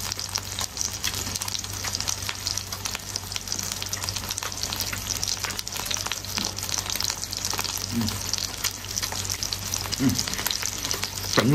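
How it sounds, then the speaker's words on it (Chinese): Steak frying in a pan, seared on both sides, a constant crackling sizzle with sharp pops and a low hum underneath, close up. "这锅煎牛排，煎牛排，两面都完煎。"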